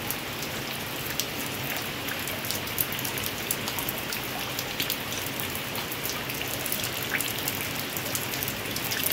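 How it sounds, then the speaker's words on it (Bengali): Heavy rain pours down in a steady downpour, a dense, even patter of drops close by, continuous and unbroken with no voices. "দেখো কি বৃষ্টি পড়ছে দেখো"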